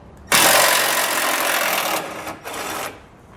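A power tool runs hard on a 15mm bolt securing a support bar to the bumper beam of a 2015 GMC Sierra. It whirs loud and steady for about two seconds, then gives two shorter bursts, alone with no talk.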